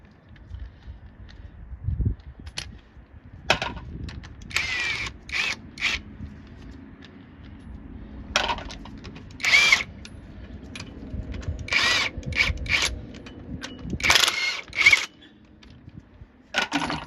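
An impact tool with a 12-point socket works the lug nuts on a Chevy Express cargo van, with repeated short bursts of rattling hammering, metallic clinks and clunks between them.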